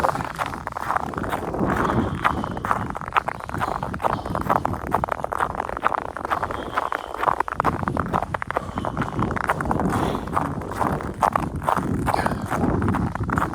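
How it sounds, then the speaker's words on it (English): Wind blows across the ice on Minnesota's North Shore in February, a steady, loud rushing and buffeting that fills the whole stretch with no talking. "it's colder going this way because the wind's in my face"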